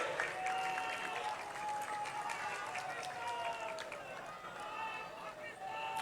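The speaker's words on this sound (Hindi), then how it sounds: "दिल की अता गहराइयों से भरपूर तालियों में इस्तकबाल कीजिए" A crowd at a political party office opening in Karachi claps and cheers, a continuous roar of applause mixed with raised voices and shouting throughout.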